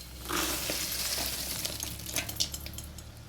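Poha chivda mixture stirred into hot tempering, a close, continuous sizzle and crackle of frying with scraping stirs against the pan.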